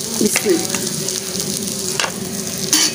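Ginger sizzles steadily with onions in a hot frying pan, a constant crackling hiss with a few clinks and stirring scrapes over it.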